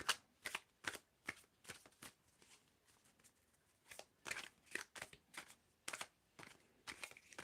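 Close, quiet hand shuffling of a tarot deck, sharp papery riffles repeating in uneven clusters with brief pauses between, no voices over it.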